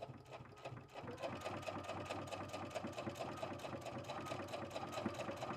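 A sewing machine stitches point to point across a quilt block for a drawstring bag, its needle chattering in a fast, even rhythm that runs steadily and close by, with no talking.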